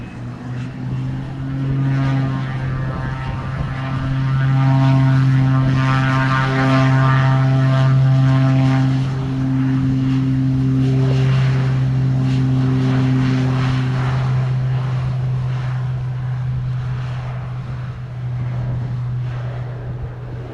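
Air Canada jet airliner at Sangster International Airport, Montego Bay, Jamaica, holding a loud, steady engine drone with sustained low tonal hum and broad roar throughout, no talk.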